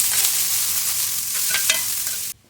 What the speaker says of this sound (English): My onion is starting to caramelize, so that means it's ready for my meat.